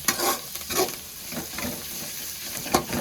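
Ingredients sautéing in a pan for home-style chicken rice, with a soft continuous sizzle and occasional louder stirring scrapes, close by with no talk.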